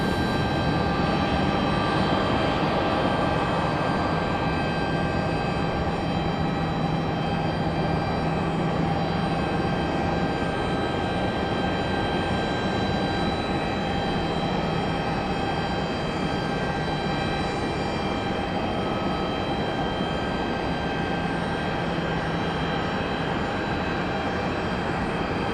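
An Icelandair jet departing from Raleigh-Durham International Airport, a loud, steady broadband engine roar held throughout with a sustained tonal whine on top.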